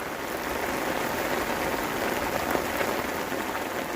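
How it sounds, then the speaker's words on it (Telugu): Steady rain showers fall outdoors at Ratanpur, Chhattisgarh, a dense, even hiss of drops on surfaces that continues without a break and with no voices. "వర్షపు జల్లులలో పులకరించుతూ నడుద్దాము"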